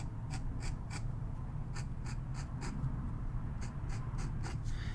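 A fountain pen nib that combines Concord and music styles scratches across paper in short, faint, rhythmic strokes, grouped in small bursts over a low steady room hum.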